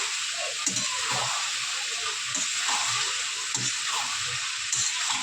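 Masala sautéing in hot oil in a pan for a Bengali papaya and rohu fish curry, a steady close hiss and sizzle with light stirring scrapes, no talking.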